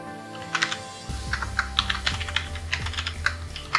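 Someone types a username on a computer keyboard, a close, irregular run of crisp key clicks in small bursts over a quiet background, with no one speaking.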